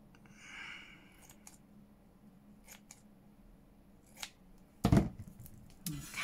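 Scissors trim fabric for a journal cover, making a few crisp snips near the end after a stretch of quiet handling and faint rustling, with no one speaking.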